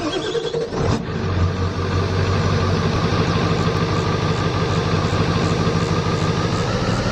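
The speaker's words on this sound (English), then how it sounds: "Ooh, that's a loud truck in my ears." A loud pickup truck engine idles steadily in Farming Simulator 22, a deep rumbling drone that holds constant throughout with no voices.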